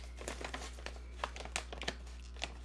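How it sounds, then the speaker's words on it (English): Paper packaging of Hong Yin ripened puerh tea mini cakes being torn open, a series of sharp crinkles and short rips, close and quiet, with no talking. "This little paper thing is both a blessing and a curse. So you rip that open, and then it's resealable."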